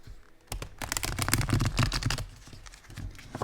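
A Moon and Stars Tarot deck is riffle shuffled once: a dense burst of rapid, crisp card flutters builds for about a second and a half, then trails off into a few scattered clicks.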